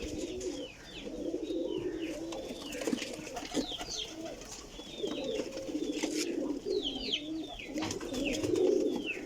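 Pigeons of pure Kajal and Teddy breeds coo softly in a loft, repeated low rolling coos under faint chirps and fluttering, with a continuous murmur of birds throughout.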